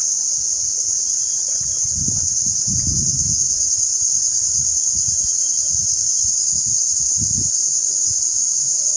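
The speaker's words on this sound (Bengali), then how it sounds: "দুপুরের বেলা তো প্রচুর ঝিঝি পোকা আসলে এখানে ডাকাডাকি করতেছে" Crickets chirp at midday outside a temple, a loud, continuous high-pitched drone that never lets up, with faint low rustles and handling bumps beneath it.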